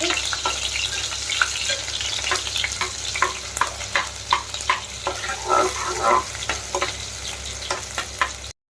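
Sliced onions frying in a pan, a dense close sizzle with repeated crackles and pops and occasional stirring scrapes, steady and fairly loud throughout with no talk.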